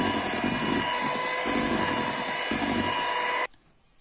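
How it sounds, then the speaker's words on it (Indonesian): An electric mixer whirs steadily as it beats pandan cake batter, a close, constant motorized drone with faint pulsing as the beaters churn, cutting off abruptly near the end; no talk. "Sambil terus kita mixer. Kocok terus sampai tercampur rata."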